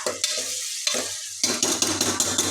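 Ginger, garlic, green chilies and onions fry in a pan for a gongura goat tripe (boti) curry, with a steady close sizzle and repeated scraping stir strokes that come in short bursts.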